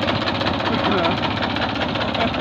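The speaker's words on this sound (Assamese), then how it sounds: "এইয়া ড্ৰাইভাৰ নোহোৱাকৈ ট্ৰেক্টৰখন চলিছে" A tractor engine running in a mustard field during harvest, with a steady low chugging rumble and knocking vibration throughout, heard under a voice.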